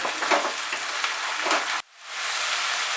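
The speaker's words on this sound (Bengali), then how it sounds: "পেঁয়াজটাকে ফ্রাই করে নেব সময় নিয়ে, 2 মিনিট মতো সময় লাগবে পেঁয়াজটাকে ফ্রাই করতে।" Onions fry in a pan with a dense, rain-like sizzle and occasional stirring scrapes, loud and close, cutting off abruptly midway before the hiss returns more softly.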